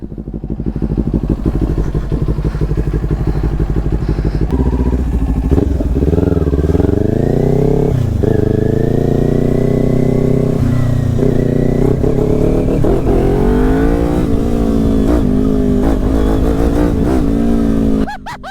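A Kawasaki Ninja 400 sport bike's engine revs up close and loud, its pitch climbing and falling through repeated throttle blips before settling back, continuous for the whole stretch with no talk.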